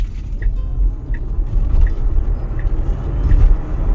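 A 2021 Tesla Model Y Long Range dual-motor electric car drives and accelerates, heard from inside as a steady low road rumble and tyre noise with faint whine, no voices.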